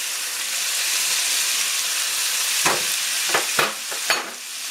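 Pork steaks frying in a pan with onions and mushrooms, a loud steady hiss of hot fat, close up, with several sharp clatters toward the end as the vegetables go in.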